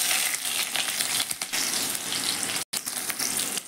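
Onions frying in a pan for egg chowmein paratha, a loud steady sizzle and crackle of hot oil, close by, with a brief break partway through and no talk.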